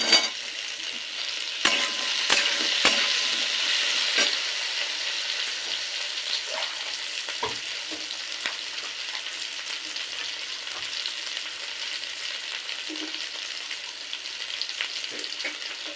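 Steady loud sizzling of eggplant frying in a pan, with sharp scraping and clacking as a utensil stirs it now and then.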